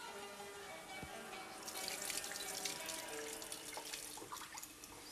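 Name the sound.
tap water running while rinsing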